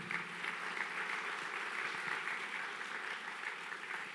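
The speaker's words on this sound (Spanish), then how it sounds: "dale fuerte ese aplauso al Señor" A church congregation claps steadily and fairly loudly for the Lord during a sermon, a dense continuous patter of many hands that holds evenly throughout without voices.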